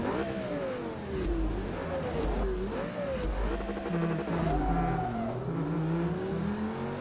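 Ferrari race car engine in Forza Motorsport 3 revving steadily and rising through gears, loud and continuous with pitch sweeping up and down, a faint tire squeal in places and no talk.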